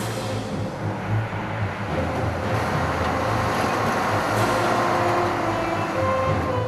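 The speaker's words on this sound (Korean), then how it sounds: "예보에도 없던 비바람과 높은 파도" Storm wind and high waves at sea in the East China Sea, heard aboard a fishing vessel as a loud, steady, dense roar that holds unbroken for several seconds without talking.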